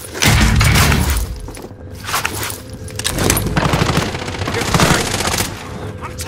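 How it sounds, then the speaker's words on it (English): Gunfire in Call of Duty Warzone on Rebirth Island, loud bursts of shots and impacts crackling in dense succession with clattering debris, a brief lull, then more sustained firing. "I'm taking fire!"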